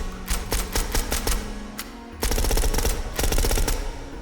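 Rapid bursts of automatic fire from an M911 open-bolt submachine gun fitted with a drum magazine, shot with incendiary ammo in the H3VR virtual reality game; loud, close, continuous rattling strings broken by one short pause, with no talk.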